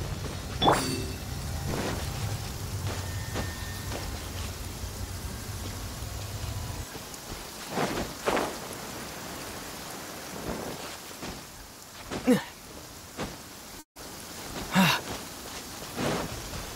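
Rain falls steadily during a stormy scene in the video game Genshin Impact, a low rumble fading after the first seven seconds while several brief thunder cracks and gusts punctuate the hiss.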